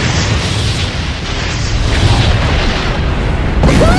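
Loud, continuous booming blasts as a portal is shot and destroyed in a Minecraft game, with a dense, rumbling roar that fills the whole moment and is heard without any talking.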